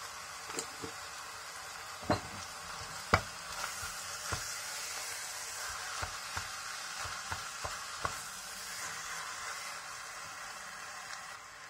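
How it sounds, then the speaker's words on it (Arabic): Minced meat sautéing in a pan with seven-spice mix and cinnamon: a steady, quiet sizzle runs throughout, broken by a dozen scattered sharp clicks and scrapes of stirring, with no voices. "ونحط بقى السبع بهارات عشان تتشوح معاها تتحمص"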